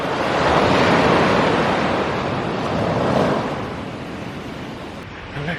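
Ocean surf rolling onto a black sand beach on the Tenerife coast, a continuous broad wash of breaking waves with wind buffeting the microphone, swelling then easing slightly toward the end.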